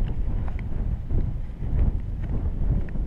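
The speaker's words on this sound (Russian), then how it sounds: "Здесь очень сильный ветер." Strong wind on the shore of Lake Baikal buffets the microphone in heavy, uneven gusts, a loud low rumble that swells and dips with no voices heard.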